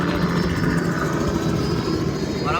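Helicopter rotor and engine drone, steady and continuous, loud and close throughout with no break.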